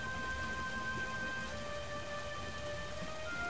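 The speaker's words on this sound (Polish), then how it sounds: "Nie możesz wyjść na ten deszcz." Steady rain pours down in a dense hiss over a low rumble in LEGO Star Wars: The Force Awakens, with faint sustained tones humming through it and no voices.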